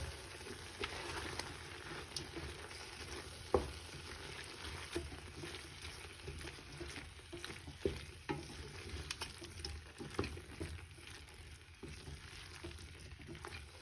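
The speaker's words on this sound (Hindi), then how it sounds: "अब मैं स्पाइसेस डाल रही हूँ बीफ में सारे जो हमने लिए थे। इसको मिक्स करेंगे।" Spices are stirred into beef in a pot for a spicy beef stew, soft scraping and stirring with a faint sizzle and occasional clinks, quiet throughout.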